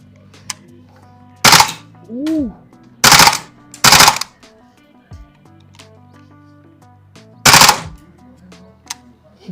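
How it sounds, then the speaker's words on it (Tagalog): A gas-powered 89R airsoft pistol fires four sharp, loud semi-auto shots spaced a second or more apart, each with a crisp pop, amid small clicks and handling noise in a quiet room. "Sunod itong 89R, di ko alam kung anong brand to, gas din."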